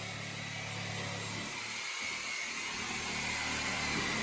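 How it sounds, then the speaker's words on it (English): A power tool runs steadily and loudly throughout, trimming rotten plywood subfloor out of a single-wide mobile home trailer, with a brief dip in low-end load partway through. "Just trimming up that wood"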